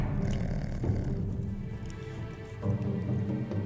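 A big cat creature roars in the video game Morrowind, a low rumbling growl that swells twice over a dense, steady background, fairly close and loud.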